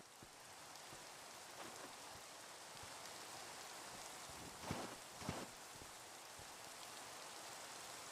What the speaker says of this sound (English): And the rain starts pouring down.